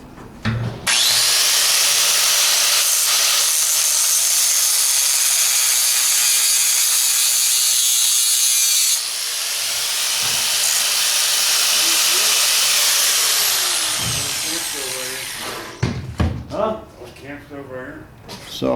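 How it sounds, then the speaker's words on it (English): A cutoff tool with an abrasive disc slices through a part on a 1960 Ford F100 pickup, a loud continuous high-pitched screech that holds for about fifteen seconds before winding down, followed by someone talking. "I'll just get my cutoff tool here and cut that thing off"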